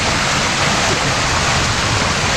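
Water pours steadily into a homemade natural shower pool dug out of stone and fed by a bit of guttering, a loud, close, continuous splashing rush with no pauses or voices.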